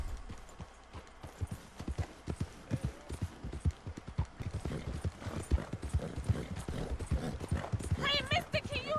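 Horse hooves clip-clopping in Red Dead Redemption 2 on the ride back into Saint Denis, a steady, close rhythm of hoofbeats that continues throughout, with a brief higher-pitched sound near the end.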